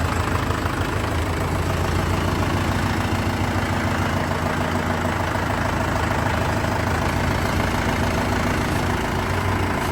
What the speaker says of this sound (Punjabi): ਲੋ ਜੀ ਭਾਜੀ ਨੇ ਕੱਢਿਆ ਬਾਹਰ ਟਰੈਕਟਰ